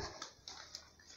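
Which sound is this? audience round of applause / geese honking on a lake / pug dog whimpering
pug dog whimpering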